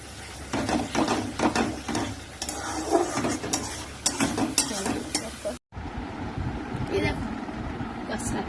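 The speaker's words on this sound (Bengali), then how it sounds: "আর এই মশলাটা কষালে দেখি কিছু মিনিট বন্ধ করে।" Spice paste with a few grains of sugar fries and is stirred in a pan, giving repeated scraping strokes over a steady sizzle, close by, with a voice talking over it; after a brief cut the frying continues more quietly.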